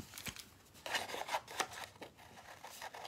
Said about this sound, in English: And I'm back to these dumb scissors.